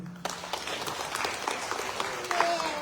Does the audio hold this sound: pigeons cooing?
no